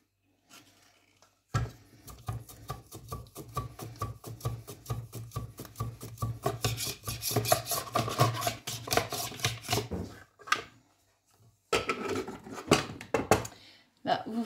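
Potatoes sliced with a blade for gratin dauphinois, rapid rhythmic chopping strikes on a board in a fast steady run, pausing, then resuming, close and moderately loud.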